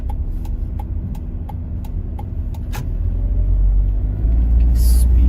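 A car's right turn-signal blinker ticks at a steady, even rhythm during a Japanese driving-course lesson, with low engine rumble underneath that swells as the car moves off.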